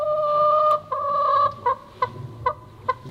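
A chicken inside a mirrored maze gives a couple of sustained tonal calls, then a rhythmic series of short, sharp clucks spaced about half a second apart, close and clear.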